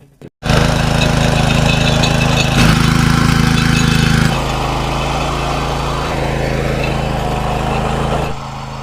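A loud, steady farm machine engine drones continuously with a strong low hum, shifting slightly in pitch partway through, outdoors in the hills, with no talking.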